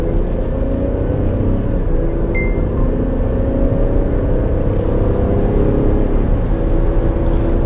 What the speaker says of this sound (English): Changes gears, smooth as can be. You hardly can tell it's changing gears.